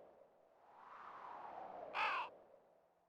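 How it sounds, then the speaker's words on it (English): A single crow gives one short, harsh caw over a faint, hollow ambient wash in the PS1 game Mizzurna Falls, the call standing out clearly but briefly against the quiet background. "And you got a crow there as well."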